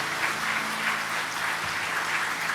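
Steady, dense applause from the congregation of Geoam Church at a dedication service and elder installation ceremony, sustained at even loudness throughout with no speech over it.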